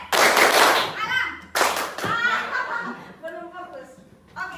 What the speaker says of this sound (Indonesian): Tepuk saja.